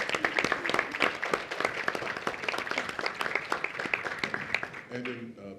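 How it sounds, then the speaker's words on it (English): Audience applause at a civil rights and individual freedom discussion event: dense, steady clapping from many hands filling the room, tapering off at the end as a voice begins speaking. "And we go give them a round of applause."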